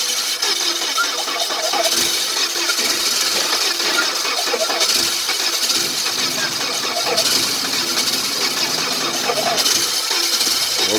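A Mazda engine cranks without starting, a loud continuous churning whir with a faint rhythmic pulse that keeps on steadily without catching, heard close up.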